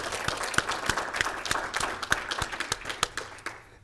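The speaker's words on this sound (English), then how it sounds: "So let's give them a round of applause" A round of applause from an audience at a student colloquium: brisk, uneven claps from a modest crowd, loud at first and thinning out toward the end.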